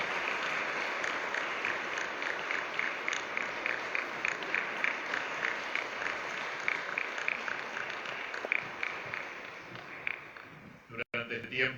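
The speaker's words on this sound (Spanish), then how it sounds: "Le damos un aplauso a la cumpleañera." A church congregation at a Saturday/Sunday Mass claps for a birthday girl, a fairly soft, even patter of applause from a moderate distance that fades out at the end.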